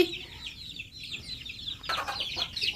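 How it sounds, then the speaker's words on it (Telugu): Farm chickens clucking steadily at close range, with a rooster-like call at the start and busier overlapping clucks toward the end, and no talking. "ఇవి మా కోళ్ళు"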